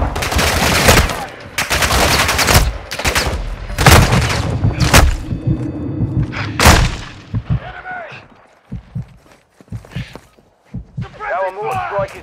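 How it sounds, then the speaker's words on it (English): Heavy gunfire in the video game DMZ, loud close bursts of automatic fire and sharp shots in rapid clusters, followed by quieter gaps with footsteps and game radio voices speaking. "You are taking effective fire."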